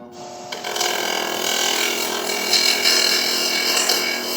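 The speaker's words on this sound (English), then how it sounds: "I think I can do it with the old bench grinder here and this fiber wheel" Bench grinder with a fiber wheel grinding JB Weld off a broken GSX-R 1000 part, a loud, steady, harsh whine that starts sharply and runs continuously with gritty rasping, no talk.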